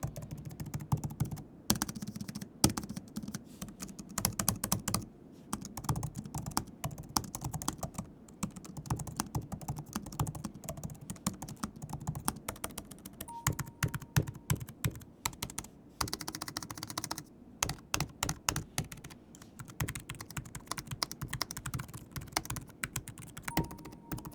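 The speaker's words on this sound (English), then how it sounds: "Let's actually go ahead and take a listen to how these keyboards sound." Continuous close typing on laptop keyboards, including a Lenovo X1 Carbon, gives dense, steady clicking keystrokes with brief pauses and no talking.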